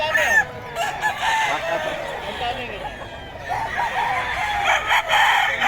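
Fighting roosters crowing close by, drawn-out calls rising and falling over background clucking and some human voices.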